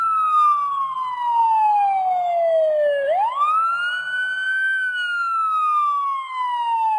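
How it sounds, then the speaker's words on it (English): An emergency siren wails steadily, its pitch sliding down then rising again in a smooth sweep, clear and continuous with no voices over it. "In the distance they heard a siren."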